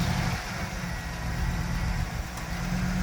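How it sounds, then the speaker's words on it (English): A car engine idles with a steady low, even hum close by. The running motor holds a constant throb throughout, with no talking. "So now we turn the engine on next to check the transmission fluid."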